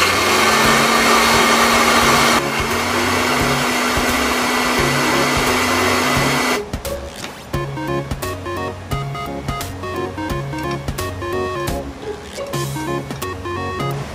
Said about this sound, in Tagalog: So, i-blend na natin ang ating mixture.